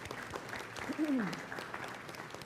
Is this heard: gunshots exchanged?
no